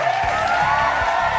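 Audience at a live talk show applauding to welcome a guest artist, a brief burst of steady clapping with faint cheers over a bed of music, loud and continuous.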